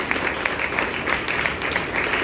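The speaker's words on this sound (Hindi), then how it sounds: "If we all just clap for all the fathers that" A church congregation claps for the fathers on Father's Day, a dense, even wash of applause from many hands held at a steady level without a break.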